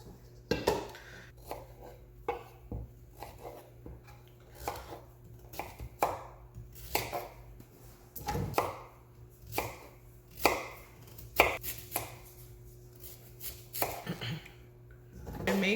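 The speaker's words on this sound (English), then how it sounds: "We're gonna be cutting them like 1 inch each and throwing it in the pot" Sweet potatoes are chopped into one-inch pieces with a knife on a cutting board, about a dozen sharp, close thuds at an irregular pace, with faint kitchen clatter between strikes.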